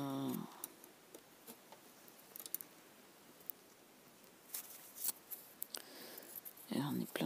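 Scissors snip paper for scrapbooking a junk journal, a few soft, scattered cuts close by in a quiet room, with someone speaking briefly at the start and end.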